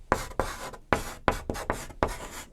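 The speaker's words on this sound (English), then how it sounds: "Okay, so I'm gonna write it here." Marker or chalk writing on a board, six quick scratchy strokes in an uneven rhythm, close and fairly quiet, with no talking.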